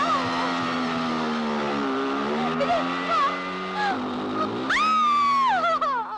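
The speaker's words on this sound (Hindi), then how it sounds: "नीतू, मैंने कहा था कि इतनी तेज मत चलाओ" A car driven fast gives a sustained, loud tonal engine whine that shifts in pitch, rising sharply into a squealing surge near the end.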